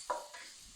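Chopped garlic sautéing in a very hot pan, a brief soft sizzle with a quick stir scrape, faint and close.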